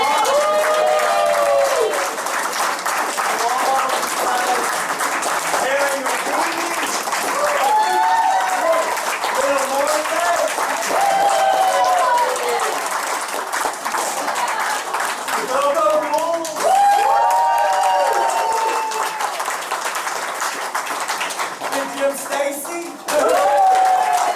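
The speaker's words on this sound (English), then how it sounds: "Big round of applause for all you guys who did this." Long, heavy applause from a crowd at the Monsterama 2019 Silver Scream Spook Show rolls on continuously, with a voice talking and calling out over the clapping at several points.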